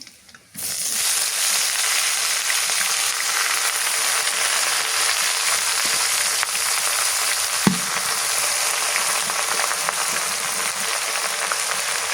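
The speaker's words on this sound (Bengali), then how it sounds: "এবার শাকগুলো দিয়ে দিই" Radish greens dropped into hot oil with fried garlic and green chillies in a pan, giving a loud steady sizzle and crackle that runs throughout, with one brief thump partway.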